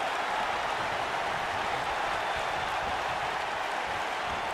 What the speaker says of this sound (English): Crowd is starting to really come alive there for Orange Cassidy.